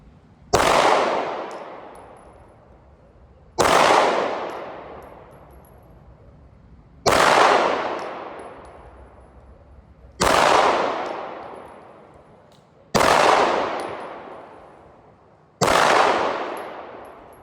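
A Glock 19 Gen 6 pistol fires at a target on a range: six loud, sharp single shots spaced about three seconds apart, each with a ringing tail, and no voices.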